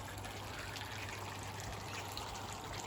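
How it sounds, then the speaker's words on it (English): Water pumped out of a koi pond trickles and pours in an even, quiet stream, constant throughout without pauses or voices. "Just pumping water out of the pond a minute"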